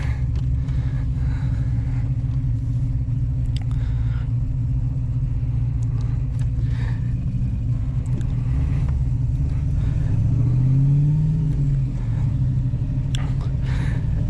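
Manual V8 VN car engine rumbling steadily from inside while driving, a low continuous drone with a brief rev swell partway through, a voice faintly present.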